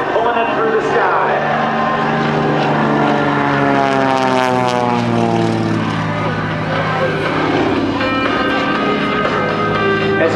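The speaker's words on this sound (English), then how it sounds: "that big 450 horsepower engine that's pulling it through the sky" A 450 horsepower propeller aerobatic airplane passes overhead at an air show, its loud engine drone rising and falling in pitch as it sweeps by and holding steady over several seconds.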